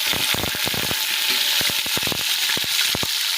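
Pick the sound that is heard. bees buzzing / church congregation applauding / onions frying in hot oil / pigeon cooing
onions frying in hot oil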